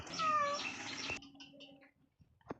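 A cat meows once, drawn out and fairly close, then fades into quiet room noise with a faint knock near the end.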